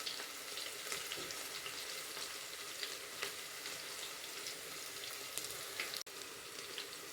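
Onions, cumin seeds and asafoetida frying in hot oil give a steady, soft sizzle with faint crackles, fairly quiet and unbroken, with one brief sharp click near the end and no voices.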